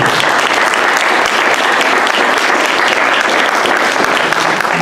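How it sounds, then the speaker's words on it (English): A crowd at an evening mayor and council candidate forum claps for the candidates, sustained, dense applause that stays loud and steady throughout with no voices over it. "Let's give these candidates a round of applause"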